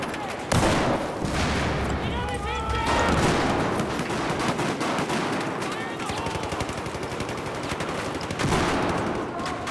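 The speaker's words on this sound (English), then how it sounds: "There, they're shooting down." Heavy automatic gunfire in Battlefield 4 during a fight over a stairwell, with continuous rapid bursts close and loud, punctuated by heavier blasts, while players talk over the shooting.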